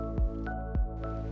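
A Hisense refrigerator's ice and water dispenser releases cubed ice: a few separate clunks and drips land in a slow uneven rhythm, close and fairly quiet.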